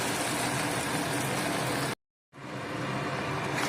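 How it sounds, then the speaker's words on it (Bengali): Brain and onion frying together in a pan on a gas stove, a steady loud hiss of sizzling oil that cuts out abruptly for a moment and then resumes just as strongly. "তো এইটা মগজটা আর পেঁয়াজটা ভাজতে ভাজতে একই হয়ে যাবে"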